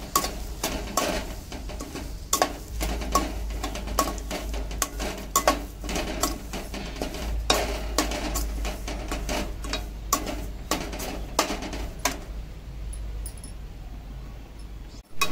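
A cup of semolina frying in ghee in a pan on a low flame, stirred with a metal spoon: steady close scraping and clinking against the pan over a faint low hiss, fading near the end.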